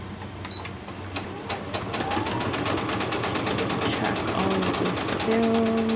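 Sewing machine stitching down a crazy crumb quilt block, a rapid continuous mechanical whir and clatter that grows slightly louder, running on its own without talk.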